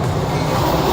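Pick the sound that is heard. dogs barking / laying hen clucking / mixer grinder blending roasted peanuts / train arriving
train arriving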